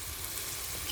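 A steady, close hiss of bubbling liquid boiling in a cooking pan while making pancit bihon with pork, continuous and fairly quiet, with no voices.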